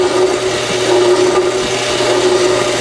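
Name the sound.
hand file chamfering the end of a spinning workpiece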